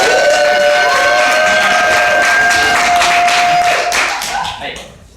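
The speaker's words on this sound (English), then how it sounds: "everybody's gonna give you a huge round of applause" Audience applause and cheering greet a volunteer coming up on stage at a magician's show, a dense crowd wash that stays loud, then tapers off over the last second.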